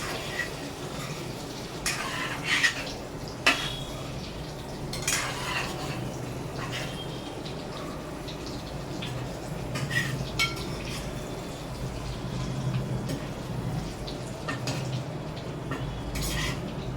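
Boiled eggs frying gently in oil in a pan over a low flame, with a soft steady hiss beneath frequent clinks and scrapes of a utensil against the pan, all close by and with no talking.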